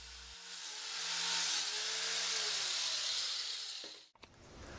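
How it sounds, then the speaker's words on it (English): An angle grinder fitted with a flap disc flattens a bevelled edge on a clamped workpiece, giving a loud, steady abrasive roar that swells and holds, then cuts off sharply near the end. "And that's what the flap disc is fantastic for."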